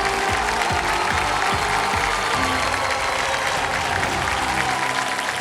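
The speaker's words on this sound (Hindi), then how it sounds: "एक बार जोरदार तालियां बज जाएं इनके लिए" A television quiz show studio audience claps loudly and continuously for several seconds, a dense, sustained round of applause with no speech over it.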